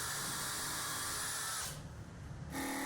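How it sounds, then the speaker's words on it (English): A power drill whines steadily while boring holes for threaded inserts in a router table top, dips briefly as it slows, then spins back up, loud and close. "then I finish up with a regular drill bit matching the size of the threaded insert"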